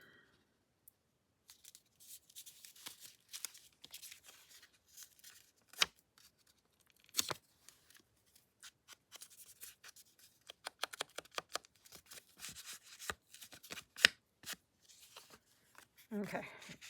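Paper faux tape being torn and handled for a flip-flop journal, with scattered close-up crackles, rustles and quick tearing sounds, some sharp, separated by near-silent pauses.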